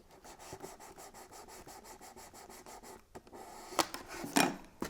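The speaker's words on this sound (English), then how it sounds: "I'm using a dowel." A wooden dowel rubs back and forth over paper on a gift box in quick, even strokes. The rhythmic scraping is close and soft, and a few sharper scratches come near the end.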